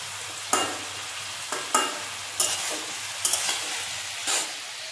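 A sweet vegetable curry sautés in a pan, a soft steady sizzle broken by about six scraping stirs of a spoon, close up with no talking.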